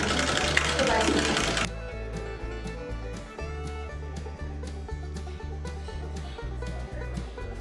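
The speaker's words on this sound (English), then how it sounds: "This mechanical sewing machine was manufactured in the 1850s and still works." Antique 1850s mechanical sewing machine running on a historic farmstead, giving a steady rapid clatter of needle strokes over a low mechanical hum, close and continuous throughout.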